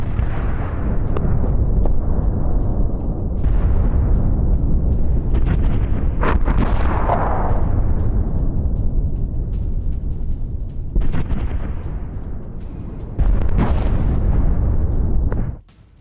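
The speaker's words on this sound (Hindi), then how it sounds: "यूक्रेनी हमले में जोरदार धमाका किस तरह हुआ, ये देखिए आप तस्वीरें" A series of large, rumbling explosions at an ammunition depot after a Ukrainian strike booms over a continuous roar, with several sharp blasts breaking out one after another.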